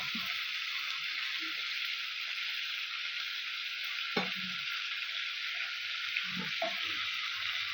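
Spice paste sizzling and frying steadily in a pot for a Bengali fish curry with eggplant, a dense continuous hiss with a few soft stirring knocks near the middle and end.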